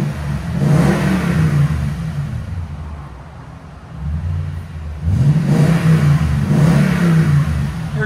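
A deep, rumbling 2021 Toyota Tundra TRD 5.7L V8 with X-pipe and Borla Pro-XS exhaust revs up and settles back, then revs again, loud and close with a low throaty exhaust tone.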